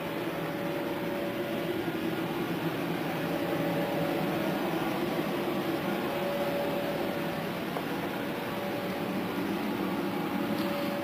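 A Universal Instruments Radial 8 machine runs with a steady, even mechanical hum and faint tonal whine that holds at the same level throughout, with no talk.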